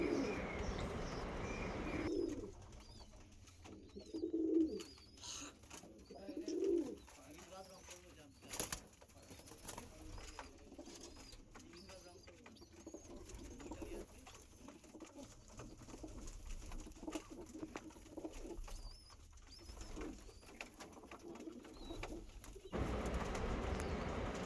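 Mangalagiri pigeons of the Andhra Lalsira and Fulsira lines cooing in a loft, with low soft coos that come and go, brief wing flaps, and some quiet background talk.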